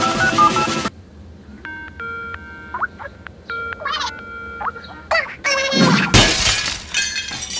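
Telephone being dialed in an animated cartoon: a run of steady dual-tone keypad beeps in two bursts, with clicks between them, followed by loud crashing and shattering noise at the end.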